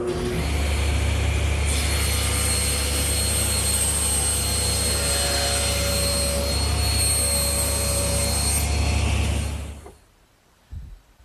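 Table saw ripping a wood panel along the rip fence, a steady loud whining cut with a low motor hum lasting about eight seconds, then dropping away as the blade spins down.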